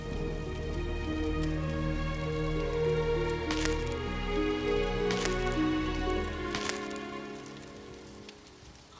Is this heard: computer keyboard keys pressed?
no